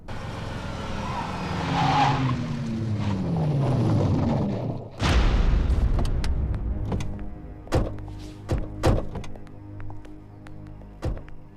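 A car in a Bollywood film brakes hard, its tires squealing in a long descending skid before it stops, followed by several sharp thuds and knocks.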